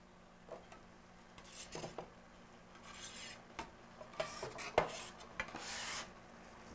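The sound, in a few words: stirring a soup mixture in a pot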